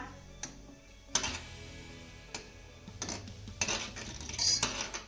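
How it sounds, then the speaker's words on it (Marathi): A spoon stirs saffron into boiling milk in a metal pot while making carrot rasmalai, giving irregular clinks and scrapes against the pot, close and fairly clear, with quiet bubbling underneath. "हे छान असं मिक्स करून घेऊया"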